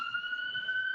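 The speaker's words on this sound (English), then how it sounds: "I'm gonna wait till these sirens go by." Police sirens passing by outdoors, a steady high wailing tone held loud and clear across the whole second, with no speech over it.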